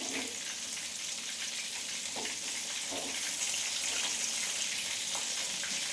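Prawns fry in butter in a pan, a steady close sizzle and crackle with a few faint clinks of stirring, no talk.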